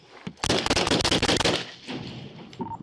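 Police open fire on a rifle-armed suspect in a rapid, loud volley of gunshots packed together, then a quieter tail of noise as the shooting stops.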